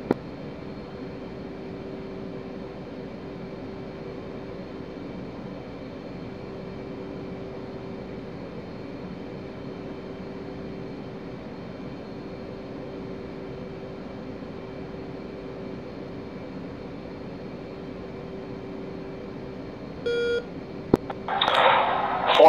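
A pair of F/A-18 jets taxi in the DCS flight simulator, giving a steady, even engine drone with a constant tone that runs unchanged for about twenty seconds. A short burst of higher-pitched noise and a faint beep come near the end.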